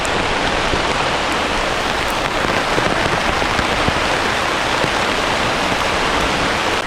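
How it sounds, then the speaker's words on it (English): Heavy rain pours steadily outdoors around a headquarters base, a dense, continuous close-up hiss of drops hitting surfaces with no pauses or voices. "But out here in the rain for you guys."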